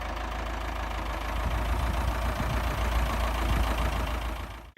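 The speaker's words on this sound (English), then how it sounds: "Just having a bit of a play with the tractor on the back of the truck." A tractor sitting on the back of a truck runs its engine at a steady idle, a close, low rumbling drone with a slight knocking pulse that holds evenly for several seconds before stopping.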